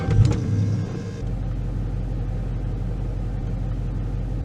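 A car engine starts up after a short burst of noise and settles into a steady, low rumbling idle, close and continuous.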